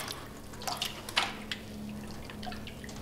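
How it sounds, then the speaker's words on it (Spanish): Water swirling and dripping as ground ore is washed by hand in an artisanal gold and silver test, with soft splashes and trickles over a steady low hum, no voices. "cuando entra el agua, hace remolinos y saca el material liviano"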